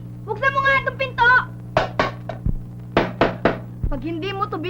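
Sharp knocks and thuds against a locked door, several loud blows in quick bursts, with a person shouting and talking between and over them indoors.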